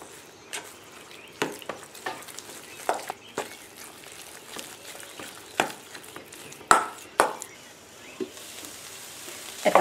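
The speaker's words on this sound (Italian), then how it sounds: "E mescolo per amalgamare tutto." A spoon stirs a chicken meatloaf mixture of minced chicken with parmesan and parsley in a bowl, giving soft wet squelches and scattered sharp clicks and scrapes against the bowl in an uneven rhythm, close up, with no one talking.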